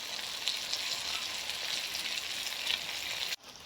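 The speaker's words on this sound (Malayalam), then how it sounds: "കുറേശ്ശെയായിട്ട് മട്ടൺ ഇട്ട് വറുത്തെടുക്കാം." Pieces of mutton fry in hot oil in a pan, giving a steady, close, bright sizzle throughout that drops away sharply near the end, with no voices.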